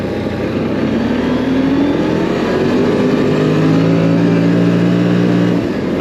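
CFMOTO Cforce 800 Touring ATV, a 2025 model in sport mode, revving hard as the engine climbs in pitch through a sustained acceleration, loud and close, with a rising whine layered over the rumble before easing off.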